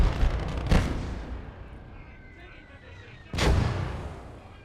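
Mortar rounds in the Gates of Hell: Ostfront video game land as two heavy booming blasts a few seconds apart, each rumbling and fading over low battlefield noise.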